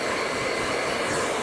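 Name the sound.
hair dryer blowing on high heat and high speed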